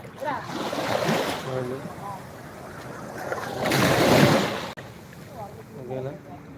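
A fishing boat rides the open sea as waves wash and surge in two loud swells, with wind noise and someone talking over the water.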